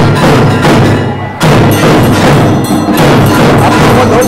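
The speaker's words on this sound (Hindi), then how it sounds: "आपको ढोल लगा हुआ आवाज सुनाई दे रहा होगा" During an evening temple aarti, a dhol drum beats loudly and close. Heavy thumping strokes are layered over a dense, roaring crowd-and-ritual wash, with a brief gap near the middle.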